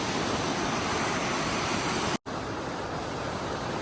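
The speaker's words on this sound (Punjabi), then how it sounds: "ਦੇਖੋ ਕਿੰਨੀ ਸਪੀਡ ਨਾਲ ਇਹ ਸਾਰਾ ਖੇਤਾਂ 'ਚ ਜਾਣ ਡਿਆ" Loud, continuous roar of canal floodwater rushing into farm fields in Punjab, filling the whole clip, steady and broadband, with a momentary cut partway through.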